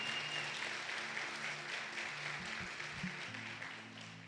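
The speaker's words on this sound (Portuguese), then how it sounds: "Você pode aplaudi-lo?" A church congregation applauds, a steady dense clapping that holds for several seconds and tapers slightly toward the end, with faint voices underneath.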